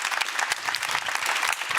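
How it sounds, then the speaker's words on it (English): A short burst of audience clapping greets a speaker at a corporate event, dense, brisk and fairly close. "Give him a big round of applause, Mr. John Lin."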